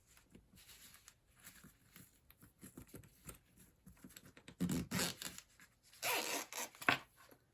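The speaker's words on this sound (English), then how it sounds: "First, I'm going to have to put the zipper pull on." Small scratchy zipping and clicking as a zipper pull is worked onto zipper tape for a sewn wallet, close and quiet, in irregular bursts with two louder rasps near the end.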